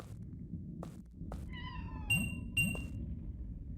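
In the game Sonar Shock, a cat gives two or three short meows in quick succession, clear and close, over a constant low background drone punctuated by a few faint ticks.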